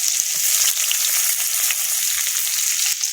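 Fish fry in hot oil in a pan, a loud, even, close sizzle that runs unbroken throughout with only faint low knocks beneath it.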